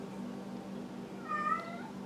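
A house cat gives a single short meow, quiet and slightly distant, over a steady low room hum indoors.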